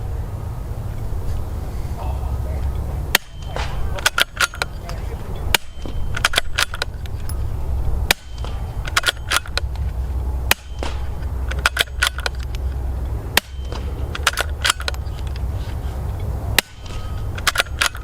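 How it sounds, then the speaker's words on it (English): Suppressed gunfire from an OSS-suppressed rifle at an outdoor range, a sharp crack repeating every couple of seconds over a steady low rumble, each shot followed by a brief snap of rounds striking downrange. "I hear the firing pin and the rounds impact"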